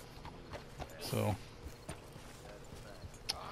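Horse hooves clip-clop in the open-world game Red Dead Redemption 2, a few soft hoof steps with a brief louder burst near the middle, heard alongside someone talking over the game.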